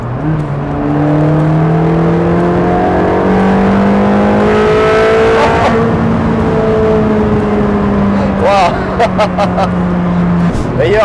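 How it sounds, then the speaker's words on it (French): A Ferrari Challenge Stradale V8 revs while driving, its engine note rising and falling in steady harmonic sweeps with a brief sharp blip near the end, loud and continuous throughout. "Ah là là, ce V8, écoutez-moi ça."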